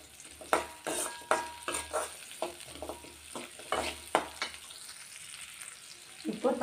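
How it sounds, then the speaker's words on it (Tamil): Chopped onions and garlic sautéing in a pan for pirandai chutney, a soft sizzle broken by repeated stirring scrapes and clinks of a spoon at uneven intervals, close up with no talking. "வெங்காயம் ஒரு நிமிஷம் வதங்கட்டுங்க."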